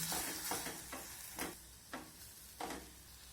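Egg stirred into a semolina batter, with repeated scraping strokes of a spoon in a bowl, about five distinct swishes over a soft sizzle-like hiss, quiet and close, with no voices.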